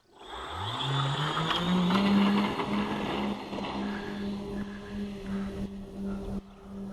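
A scratch-built STOL-style model plane takes off on troublesome landing gear, its electric motor whining up to a steady, rising buzzing drone that carries loud and close for several seconds, with no voices.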